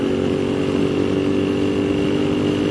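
A Moto Guzzi V7 Mk2 750cc motorcycle engine drones steadily and loudly while riding at speed, a constant low rumble with some wind roar and no talk.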